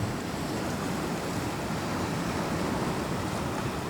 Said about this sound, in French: les sons des vagues qui viennent se frapper contre les rochers